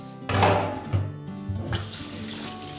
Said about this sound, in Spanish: Vamos a lavar entonces bien nuestro arroz.